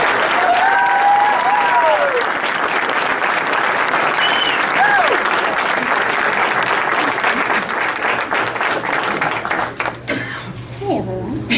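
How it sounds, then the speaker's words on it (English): Audience at a state representative campaign launch breaking into sustained, loud applause with cheers and whoops, fading slightly toward the end as people talk. "a round of applause for my brother, my best friend, and my next state representative"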